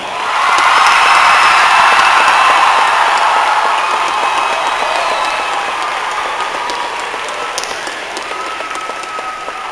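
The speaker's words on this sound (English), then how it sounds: "How about a big round of applause to Mrs. Cindy Burdine." An audience at a Veterans' Day ceremony breaks into loud, sustained applause that fills the room, then slowly fades over about ten seconds.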